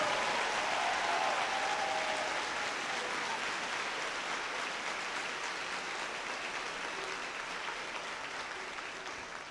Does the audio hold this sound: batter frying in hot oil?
no